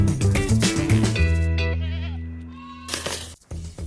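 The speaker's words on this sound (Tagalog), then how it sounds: "nahuli na natin yung kambing ha" A freshly caught goat bleats loudly and close, a long wavering cry followed by a shorter call, with heavy breathing and rustling at the end.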